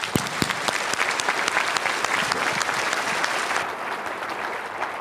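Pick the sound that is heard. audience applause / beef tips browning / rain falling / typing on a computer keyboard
audience applause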